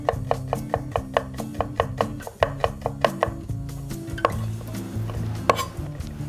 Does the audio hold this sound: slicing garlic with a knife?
yes